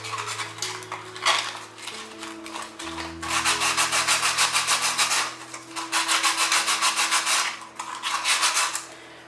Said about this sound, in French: Voilà notre bol que nous avons eu à gratter.